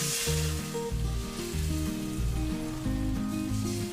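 Hot water poured into frying rohu fish curry with potatoes, a loud hissing sizzle that is strongest at the start and then settles, with a melodic musical tune playing prominently over it throughout.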